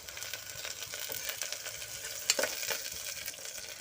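Curry sizzles in a hot pan while a spoon stirs it, giving a steady frying hiss broken by repeated scraping strokes and one sharper clink near the middle.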